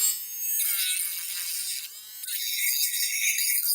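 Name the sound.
small electric rotary tool grinding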